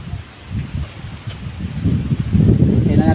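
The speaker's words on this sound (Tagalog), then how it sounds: "Lakas ng hangin dito kabuwek" Strong wind buffets the microphone outdoors in a low, rumbling roar that swells louder toward the end, with a faint rustle above it, during cooking fish in a tin can over a fire.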